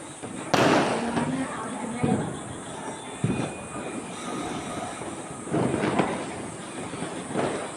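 Colourful fireworks bursting over a residential neighbourhood, with several sharp booms at irregular intervals and a steady crackling, distant rumble between them.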